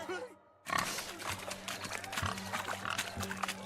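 Pigs oinking and grunting in The Witcher 3: Hearts of Stone video game, during a swineherd race, a cluster of grunts close by over a busy background with music and footfalls.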